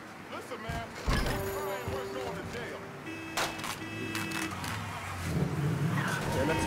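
A car engine in the Mafia III video game revs and drones steadily throughout while the player drives. Game noises sit over it, with a louder surge near the end.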